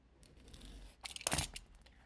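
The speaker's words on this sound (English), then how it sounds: "put a little cut with our X-Acto knife right here" An X-Acto knife slices a beeswax sheet along a ruler for a rolled candle, giving a brief, close scraping cut that swells into a louder rasp near the end.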